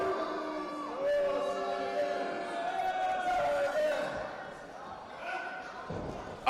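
A wrestling crowd jeers at a wrestler during a live event, a dense, continuous roar of voices filling the arena throughout.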